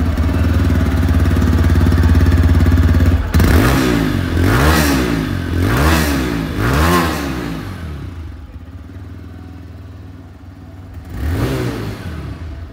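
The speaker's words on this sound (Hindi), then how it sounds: "चलिए सबसे पहले इसकी जो एग्जॉस्ट साउंड है वो मैं आप लोगों को सुना दूँ।" A 2023 TVS Raider 125 motorcycle idles loudly, then its exhaust is blipped through several quick revs rising and falling, fades to a quieter idle, and is revved once more near the end.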